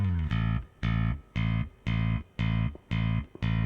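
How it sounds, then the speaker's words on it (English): Soloed, rudimentary rock bass line thumping out evenly spaced repeated notes, about seven short steady hits with brief gaps between them, slightly distorted and quiet, with nothing else playing. "The bass is as rudimentary as I could make it, and it sounds like this."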